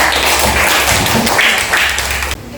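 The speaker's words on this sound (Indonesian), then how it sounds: "Oke, tepuk tangan buat Roman ya" Elementary classroom of fourth-grade pupils clapping for a classmate, a loud burst of close, dense hand claps that stops abruptly near the end.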